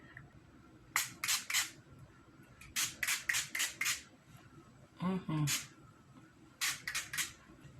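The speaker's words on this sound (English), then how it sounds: "I'll just put on my setting spray, set my face." Quick hissing spritzes of a makeup setting spray bottle come in rapid runs of three to five pumps, sprayed onto the face, with a brief voice between them.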